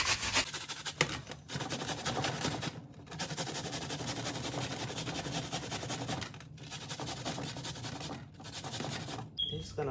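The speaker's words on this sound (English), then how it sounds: "I'm gonna use the grater and add a little piece of onion." A small piece of onion rubbed against a kitchen grater while making baked macaroni and cheese, giving a steady, close rasping scrape that runs almost continuously with a few brief pauses between strokes.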